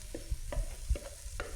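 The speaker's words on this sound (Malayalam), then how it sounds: "അരി മൂത്ത് വരുമ്പോൾ നമുക്ക് നല്ലൊരു സൗണ്ട് കേൾക്കാം ഇതിൽ അരി ഇളക്കുമ്പോൾ" Basmati rice in hot ghee is stirred with a spoon, giving several scraping strokes and soft knocks against the pan over a quiet sizzle, close and fairly faint.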